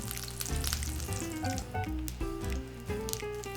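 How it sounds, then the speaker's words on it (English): Loud, continuous sizzling and crackling of butter frying steaks in a hot pan, with some pitched tones running underneath throughout. "You want to hear that sizzle."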